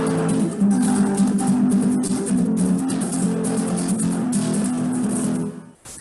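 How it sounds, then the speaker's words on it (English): Flamenco rumba guitar strumming, a steady rhythmic strum with percussive accents, loud and continuous, alone without talk, stopping abruptly near the end. "I guarantee that all of you have heard rumba at least once in your life before,"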